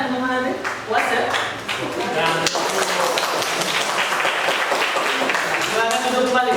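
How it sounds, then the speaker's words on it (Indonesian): Dense applause from a crowd fills the clip, with people talking over and around it. "Kita kasih tepuk tangan dulu."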